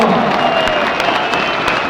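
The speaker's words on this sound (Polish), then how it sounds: "jeszcze raz, klaskami" Audience applause at a football club event for Arka Gdynia, a dense wash of clapping filling the whole moment at steady loudness with some crowd murmur underneath.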